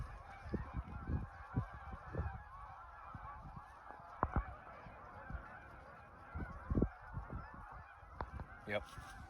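Canada geese honk repeatedly overhead during a hunt, loud overlapping calls in irregular bursts, with faint wingbeats and no talking.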